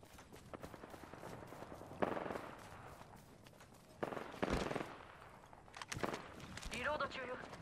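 Apex Legends battle royale firefight: bursts of gunfire crackle in the mix, sharper bursts standing out here and there, with in-game character voice lines calling out over the shooting.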